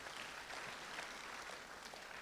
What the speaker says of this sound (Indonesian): Come on, beri tepuk tangan kemuliaan buat Tuhan.